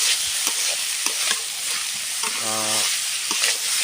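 Malabar spinach stem bhaji fries in a pan with a loud, continuous sizzle and a brief scrape of stirring, and no voices are heard.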